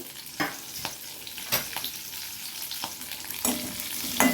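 Medium-sized pieces of okra fry in oil in a pan, giving a steady close sizzle with occasional soft scraping as the pieces are stirred, with no talking.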